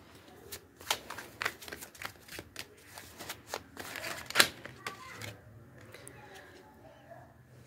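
A tarot deck being shuffled and handled as a card is drawn, with a rapid run of crisp, close card flicks and snaps, one sharper slap near the middle, and faint voice traces in the background.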